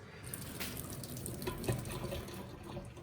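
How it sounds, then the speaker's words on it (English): Hot pasta water and pasta poured from a pot into a kitchen sink strainer while cooking prawn pasta, a steady rushing splash lasting about three seconds with no voices. "we're gonna go over to the sink, we're gonna strain the pasta"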